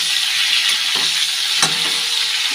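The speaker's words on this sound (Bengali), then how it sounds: "আর এখানে সাদা জিরে দিয়ে তেজপাতা দিয়ে ফুলকপিটা ভেজে নিয়েছি।" Cauliflower frying in hot oil with cumin seeds and bay leaf, a steady close sizzle with a couple of brief utensil clinks, no voices.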